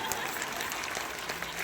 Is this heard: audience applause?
yes